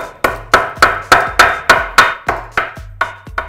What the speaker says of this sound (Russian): И сейчас молоточком для отбивания мяса.